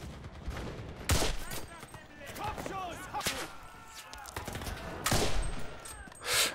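WW2 rifle shots in the shooter game Enlisted, several sharp cracks spaced apart amid other game noise, with someone talking between and over them.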